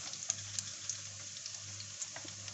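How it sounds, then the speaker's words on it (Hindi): Cumin and black cardamom sizzling in hot oil for chicken dal, a faint, steady crackle with small pops and a light clink, no voices. "अब मैं डालूंगी उसमें जीरा, बड़ी इलायची डालूंगी"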